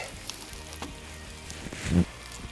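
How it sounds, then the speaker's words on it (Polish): Faint sizzling and crackling of French toast frying in butter in a pan, with a soft thump partway through. "na to rozgrzane masło wrzucamy nasze tosty"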